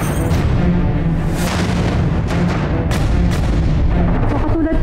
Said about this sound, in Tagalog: So katulad po ng June 3, 2024, eruption yung nangyari pong pagputok kanina, ngunit ito po ay mas malakas.